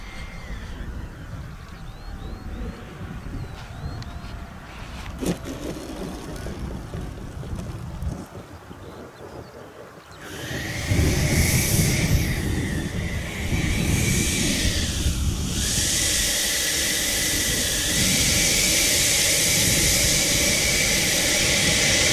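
An RC L39 jet model powered by a Stomax 90 electric ducted fan on 8 cells: wind buffets the microphone outdoors, then a loud, rushing high-pitched fan whine rises and holds steady.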